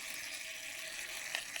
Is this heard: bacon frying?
yes